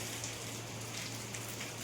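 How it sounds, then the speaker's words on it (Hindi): Steady rain falls outside, a continuous close hiss of drops spattering on surfaces with no pauses and no voices. "बारिश बहुत परेशान कर रही है, बारिश रुक नहीं रही है"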